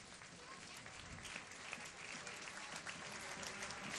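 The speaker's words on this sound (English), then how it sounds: "Much applause." Crowd applause at a USL Pro soccer match between Pittsburgh and Rochester during a substitution, a steady, fairly faint patter of clapping heard from a distance.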